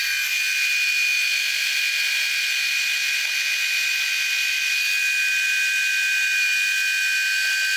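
A Remington MX5 head shaver's small trimmer attachment running on a moustache gives a loud, close, continuous high-pitched electric buzz that holds steady throughout, with no speech.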